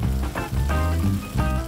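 Seafood frying in a paella pan, a steady close sizzle with rising and falling bursts of crackling throughout.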